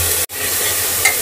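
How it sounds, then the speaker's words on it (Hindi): Vegetables sautéing in a pan with ginger-garlic paste and green chili, a steady close sizzle with stirring, briefly cut off by a short gap of silence, then continuing. "इन सब्जियों के साथ एक मिनट इसे भून लेंगे।"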